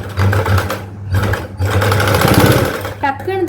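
Sewing machine stitching a zip onto a princess-cut blouse, its motor running in steady bursts of rapid stitching with brief pauses, close and loud, while someone talks over it.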